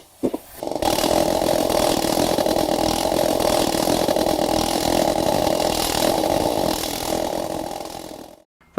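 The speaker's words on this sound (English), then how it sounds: "Now I'll use the planishing hammer to crush the weld flat on the inside." A planishing hammer flattening a weld on a metal aircraft fuselage: steady, loud mechanical buzzing hammering runs continuously for several seconds, then cuts off abruptly; dense rapid impacts blur into one harsh drone.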